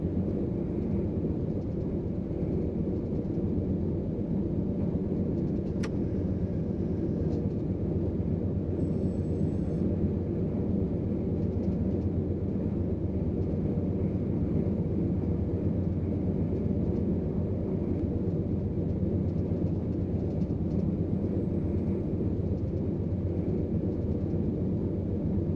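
Low, steady rumble of a 10,000-ton freight train running in the Run8 train simulator, a constant deep drone with faint clanks, heard alone without talk.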